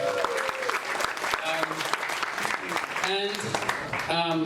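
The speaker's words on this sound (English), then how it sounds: "So a big round of applause for yourself for all of you." Audience applause at a YouTube Creator Camp in Cebu fills the room steadily, dense clapping with cheering voices and shouts rising through it, loud and close throughout.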